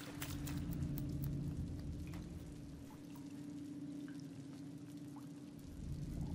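Water pouring in and filling an enclosed space in Little Nightmares, a steady rushing, splashing pour with scattered drips and a low rumble underneath, continuous and moderately loud.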